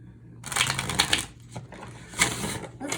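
Tarot cards being shuffled by hand, a continuous crisp riffling and sliding of the deck that comes in two bursts with a brief pause, close and fairly loud.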